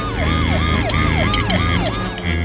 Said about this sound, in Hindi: अंततः एम्बुलेंस